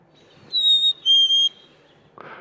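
Backyard bird song with two clear whistled phrases, each about four tenths of a second long and separated by a short gap, clean and fairly close against a quiet background, followed by a brief rustling noise.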